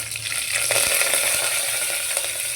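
Green chilies and curry leaves sizzling in oil for masoor masala rice, a loud close crackling hiss that stays fairly even with scattered pops and utensil knocks; no talking.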